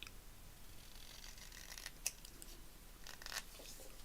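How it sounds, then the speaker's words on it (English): Scissors snip through printed paper, close up to a printed line for a journal page: faint, quiet crisp cuts scattered across a few seconds, one sharper snip standing out in a hushed room. "Let's just cut this close up to that line"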